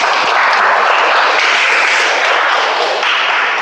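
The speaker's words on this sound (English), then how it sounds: "Can we have a round of applause for the timer, please?" Meeting audience applauding together, a dense, even wash of clapping that holds steady at close range from start to finish.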